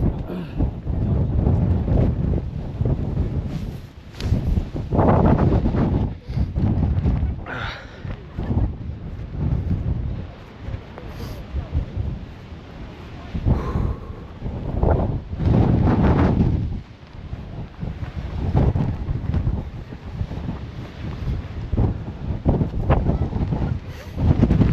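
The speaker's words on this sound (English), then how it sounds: "Wind almost knocked me down then. It's very windy." Strong gusts batter the microphone on the Arthur's Seat hilltop in Edinburgh, with heavy roaring buffets that surge and ease over and over, loud and close, with a voice faintly heard among them.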